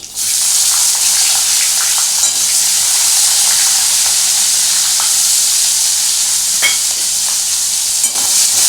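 Chopped onions and nigella seeds sizzle loudly in hot oil for a bok fish curry, a dense continuous frying hiss with occasional spatula scrapes and soft clicks as they are stirred.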